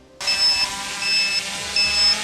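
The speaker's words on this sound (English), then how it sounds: "an alarm system that goes off at the end of 12, 13 minutes" Black Widow drone low-battery alarm sounding as repeated high-pitched electronic beeps, three evenly spaced bursts over steady background hiss, close and clear.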